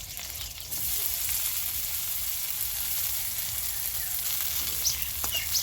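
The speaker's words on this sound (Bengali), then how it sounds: "এরপর ভেজে নেব কাঁচা লঙ্কা ও কিশমিশ ভেজে নেব।" Green chillies and raisins fry in hot oil in a home kitchen, making a steady, close crackling sizzle that stays even throughout with no voices.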